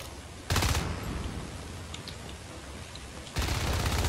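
Marine rifle fire in the video game Natural Selection 2, a steady stream of rounds with two loud bursts at the start and end and a quieter sustained rattle between them.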